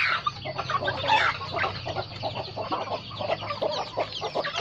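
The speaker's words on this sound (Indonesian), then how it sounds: "Ayam burung nih guys" Bangkok chickens cluck and squawk repeatedly in a busy, close-up chorus of short overlapping calls with no speech.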